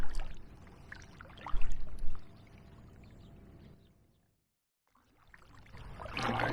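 Paddle strokes from a kayak heading upstream on a river splash and pour in a few close bursts, then fade to near silence before water noise returns.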